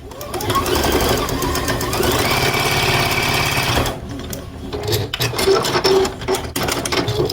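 A sewing machine stitches rows of a Scissors & Buttons quilt block together, a steady rapid whir for about four seconds, then a brief pause before it resumes more unevenly with clicking stops and starts.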